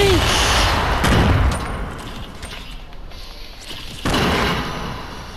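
Grenade explosions and rapid gunfire crackle through a video game battle, loud dense bursts at the start, a quieter stretch, then another heavy burst of blasts near the end.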